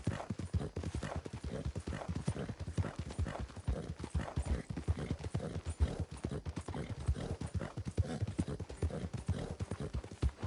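Horse hooves clip-clop in a steady, rapid rhythm throughout in Red Dead Redemption Online, an even trotting beat at moderate volume with no voices over it.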